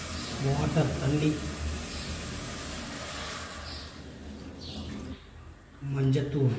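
Water poured into a pot of chicken curry in a home kitchen, a continuous splashing rush of several seconds that breaks off briefly and resumes, while a person speaks over it.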